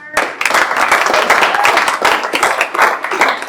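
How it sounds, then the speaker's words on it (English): Audience applause at the close of a startup scaling talk, dense sustained clapping from a room of listeners, loud and near, continuing evenly throughout. "please applause"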